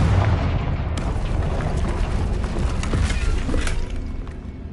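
A Confringo blasting spell explodes in the video game Hogwarts Legacy, a loud, deep rumbling blast with crackling debris and a sustained roar that slowly fades, heard alone.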